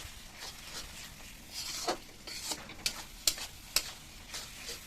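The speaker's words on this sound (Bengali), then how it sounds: "মশলাটা নেড়ে নেড়ে ভালো করে বেশ তেলটা ছেড়ে যাবে" A spice paste for a meat curry is stirred and fried in oil, a soft sizzle under slow scraping strokes with a few crisp ticks of the spoon against the pan.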